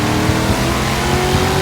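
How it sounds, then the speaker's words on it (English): Deep, steady V8 roar from the Dodge Charger General Lee's virtual Hemi engine in Forza, a loud continuous drone with a low rumble throughout and no talking. "this car just feels faster, owing mostly to the sound, which is a mean virtual Hemi roar"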